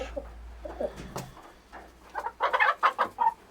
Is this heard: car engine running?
no